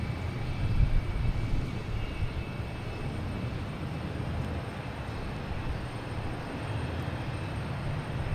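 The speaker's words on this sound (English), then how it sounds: "Aero Mexico coming in from Mexico City." Aeromexico airliner from Mexico City on approach to Boston Logan, heard as a constant, moderately faint jet rumble with a slight swell early on and no speech over it.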